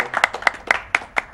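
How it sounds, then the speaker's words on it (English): Sparse scattered hand claps, roughly six distinct close claps in a loose rhythm, from the audience at an AGDQ 2017 Portal 2 co-op speedrun, with no talking. "Hope you guys are clapping for the donation"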